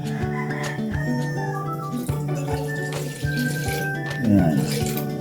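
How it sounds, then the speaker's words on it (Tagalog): Water streams into a cooking pot for paksiw na bangus (milkfish stewed in vinegar), a continuous splashing pour running under a speaking voice and background music. "unahin natin ilagay yung ating tubig"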